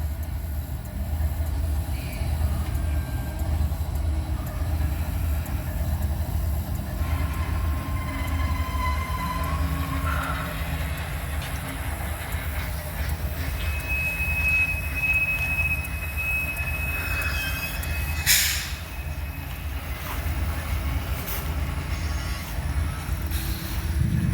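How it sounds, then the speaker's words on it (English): A manifest freight train pulls out southbound through Abbeville with a steady low rumble of rolling cars, punctuated by a few high wheel squeals near the end, loud and continuous throughout. "the manifest freight is pulling south"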